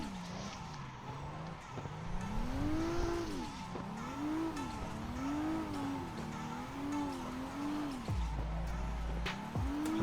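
A car drifting on a paved lot throws out a rising and falling engine rev with squealing tires, sweeping through repeated slides over about ten seconds. The sound stays fairly loud, with a brief low thump near the end.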